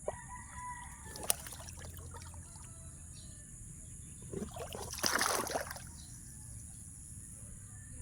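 Roosters crow and hens cluck in the distance in a Philippine garden, among other outdoor background noise including dogs and birds, with a louder burst of activity partway through.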